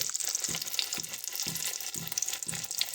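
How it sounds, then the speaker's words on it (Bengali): Masoor dal fritters (bora) sizzle steadily in hot oil, a dense crackling hiss broken by soft scraping strokes about every half second, close and alone with no voices. "একই রকমভাবে আমরা বাকি বড়াগুলোকেও ভেজে নেব"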